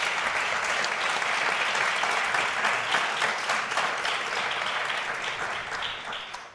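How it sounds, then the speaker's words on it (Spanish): A large audience claps steadily for the speakers at a Spanish university public event, sustained and full, then begins to fade toward the end. "Me gustaría pedir otro gran aplauso para ellos."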